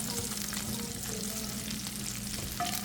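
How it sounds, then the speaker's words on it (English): Onions go into a pan of frying bacon, making a steady, fairly faint sizzle that crackles continuously with a few soft clinks from the pan. "So let's go ahead and add the onions now."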